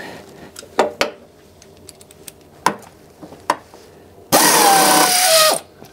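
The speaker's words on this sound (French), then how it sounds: "Je dévisse les 4 vis qui sont trop serrées." A tool works loose four overtightened screws during an ignition-system repair, with a series of sharp clicks and knocks followed by a loud, sustained grinding burst of more than a second near the end.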